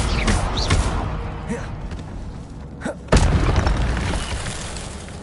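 An Incendio fire spell goes off in the Hogwarts Legacy video game as loud whooshing booms and bursts, with a sharp explosive hit near the end over a steady game ambience.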